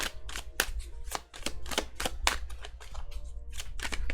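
Tarot cards being shuffled by hand: rapid, crisp, papery clicks and flutters in quick repeated bursts, close and fairly loud, with no voice over them.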